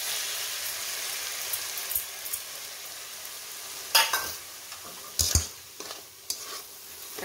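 Chopped tomatoes cooking in a pan for suji upma, a soft, continuous sizzle broken by a few sharp clanks and scrapes of a spoon against the pan.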